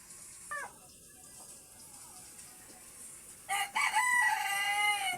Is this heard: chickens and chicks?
yes